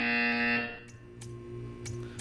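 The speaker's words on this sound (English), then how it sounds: "You will hear a buzzer." A buzzer tone sounds in the Portal 2 video game, a steady harmonic drone lasting about half a second, then fading into a low hum with faint clicks and soft background tones.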